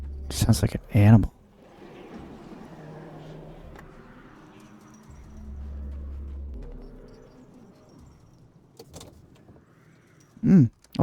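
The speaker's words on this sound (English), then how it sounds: "Oh, that's her car now." A car pulls up in the Alan Wake's American Nightmare video game, a low engine rumble rising and fading in the middle of the scene, with brief louder bursts of other game sounds at the start and end.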